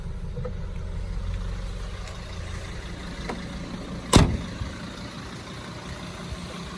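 A Mercedes Sprinter 316 CDI van with a 2.7 diesel engine idles: an even, low rumble at moderate level, with one short sharp knock partway through.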